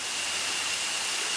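Waterfall rushing near resort villas, a loud continuous broadband roar of falling water, steady and close with no voices.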